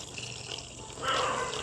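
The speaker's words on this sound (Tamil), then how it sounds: "இப்போ வந்து நாங்கள் அளவாக தண்ணியை விட்டு கரைச்செடுப்போம்" Water splashes into a bowl of roasted-gram (pottukadalai) dosa batter as it is mixed by hand, a soft, close liquid swish that swells into a brief louder slosh midway.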